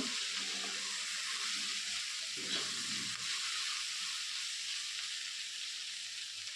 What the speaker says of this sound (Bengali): দিয়ে এগুলোকে আমি হালকা আর একটু ভেজে নেব।